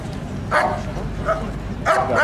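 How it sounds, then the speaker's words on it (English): A police dog barks in short bursts, three or so yelps spaced apart, over a steady background rumble. "dog barking"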